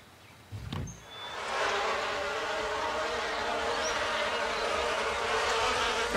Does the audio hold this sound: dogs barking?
no